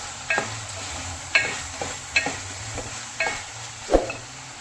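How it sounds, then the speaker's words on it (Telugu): Brinjal curry is stirred in an open pot with a spoon, five or six distinct scraping strokes at a loose, even pace over a soft continuous sizzle, close and clear with no talking. "దాని తర్వాత అయితే క్యాప్ అయితే ఓపెన్ చేసి మిక్స్ అయితే చేసుకోవాలి"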